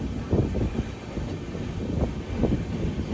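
The Hampi Express from Mysuru to Hampi running at around 100 km/h, heard from on board as a steady low rumble with wind buffeting and a few rhythmic wheel thumps rising out of the roar.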